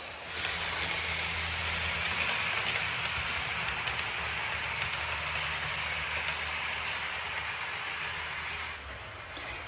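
A steady, continuous rumbling rush of a small model train running nonstop on its track, with a constant whirring hum throughout.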